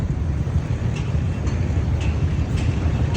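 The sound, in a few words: LRT train at a station in Kuala Lumpur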